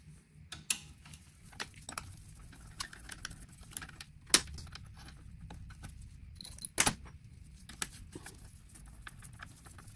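Metal clinks and ratchet ticks come from bolts being loosened and pulled out of the motor mount on a Talaria electric dirt bike gearbox, with sparse scattered taps and a few sharper knocks, close by and quiet.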